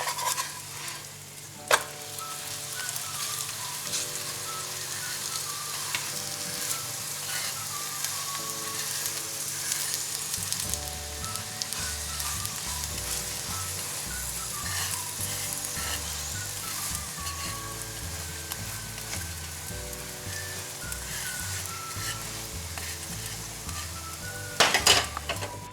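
Besan roti cooking in a pan, with a quiet sizzle underneath, a few utensil clinks, and a repeating musical pattern playing over it.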